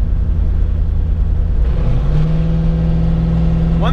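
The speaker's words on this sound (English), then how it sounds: "Oh, here's a bug car. They rent these out here in Red Rock for the tourists to drive around." A rental bug car in Red Rock drives close by, its engine a loud rumbling drone that shifts pitch partway through, settling into a steady tone with a rising whine toward the end.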